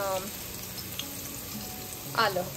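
Ginger, garlic and chili paste frying in hot oil, a steady soft sizzle with a couple of brief scraping stirs, close and fairly quiet.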